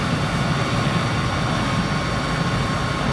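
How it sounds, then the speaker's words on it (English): A business jet engine in a flight simulator game roars as a steady, dense broadband whine and rumble, loud and unbroken throughout with no voices. "It is a business jet, yes."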